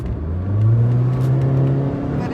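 A 10th-generation Honda Civic with a 1.5L engine and stock exhaust accelerating, heard from inside the car as a steady, rising engine drone that stays smooth and fairly quiet throughout.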